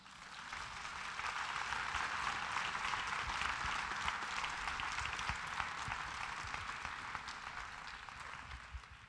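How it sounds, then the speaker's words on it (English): Steady applause from an audience after a business workshop talk in Oakland, many hands clapping at a constant level for about nine seconds, heard from a distance and fairly soft. "Let's give Michael another round of applause"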